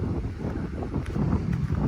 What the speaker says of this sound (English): God, is it windy